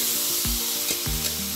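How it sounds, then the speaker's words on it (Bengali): Vegetables sizzle loudly in hot spiced oil for a rohu fish and cauliflower curry cooked on a wood-fired stove, a steady crackling hiss broken by a few low scraping stirs. "সবজি ভেজে দিলাম।"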